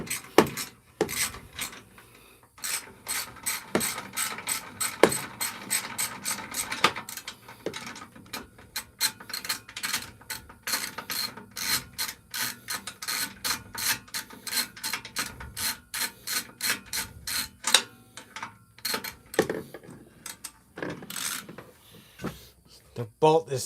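A ratchet wrench clicks rapidly in bursts on a spinning bolt during work on a van, fast pawl ticks starting and stopping close by, with brief talk mixed in.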